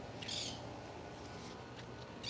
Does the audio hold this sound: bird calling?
yes